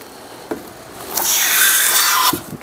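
A restored Stanley Bailey No. 5 hand plane shaves a leftover pine 2x6 in one long rasping stroke, close and fairly loud, with soft knocks as the plane is set down and lifted.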